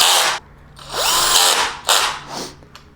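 A power drill drives the handle bolts back into a Veteran Patton-S or Lynx-S electric unicycle during a tire change, in three loud, close whirring bursts of varying pitch separated by brief pauses.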